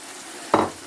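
Black eye bean stew being stirred and fried in a pan, two short bursts of scraping and sizzle after a quiet start, close and fairly loud.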